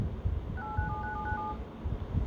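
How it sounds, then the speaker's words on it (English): Keypad tones from the dialer of a Realme 5 smartphone: a quick run of about six short beeps at steady pitch, clear over faint background hiss, with no talking. "let's take a look at the dialer first"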